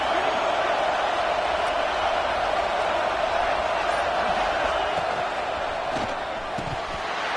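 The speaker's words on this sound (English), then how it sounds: "It's early, but this crowd is fired up. Listen to this noise here." A fired-up football stadium crowd roars early in a game, a loud, dense and unbroken wash of noise that holds steady for about seven seconds.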